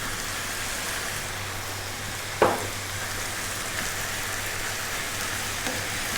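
Chopped tomatoes, two cups, go into a hot pan over medium heat for beef curry and sizzle in a steady, even hiss, with one sharp splash as they land partway through.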